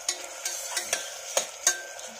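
Onion sautéed in a pan gives a soft sizzle broken by about half a dozen sharp scraping stirs of a spatula at an uneven pace, with no voices.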